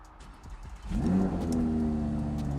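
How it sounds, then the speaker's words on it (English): A 2022 Audi R8 V10 Performance engine fires up with a brief rev, then settles into a loud, steady, burbling idle close by, in dynamic mode with valves open. "So obviously, dynamic setting, it idles on its loudest setting. The valves are open."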